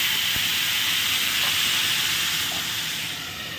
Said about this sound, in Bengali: আমি এর মধ্যে এই যে আলুগুলো একটু সুন্দর করে ভেজে নেব লাল লাল করে।